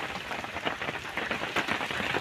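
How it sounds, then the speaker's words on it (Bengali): Steady rain falls beside a green rice field in rural Bangladesh, a continuous close hiss of drops with soft irregular patters and no voices. "বৃষ্টি নামতেছে এই মুহূর্তটায়"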